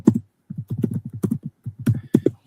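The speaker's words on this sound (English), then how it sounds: "Who's typing?" Rapid keyboard typing in bursts of uneven clicks, close and fairly loud, with short pauses between runs of keystrokes and no talk.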